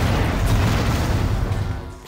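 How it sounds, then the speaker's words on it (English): In the Descent 2 video game, the Phoenix Cannon fires with a heavy, close boom that rolls into a rumbling, gradually fading blast lasting about two seconds. "The Phoenix Cannon's moment of glory."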